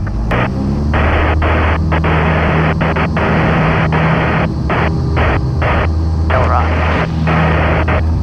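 Small training airplane engine roaring at full power during takeoff, loud, steady and continuous with heavy droning hum and rushing noise throughout, cockpit close, with speech over it.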